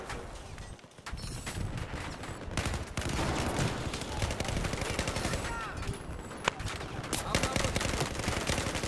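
Dense, sustained gunfire from Battlefield 4: overlapping bursts of automatic and single shots crackle almost continuously, loud and close, with a few sharper cracks standing out over the barrage.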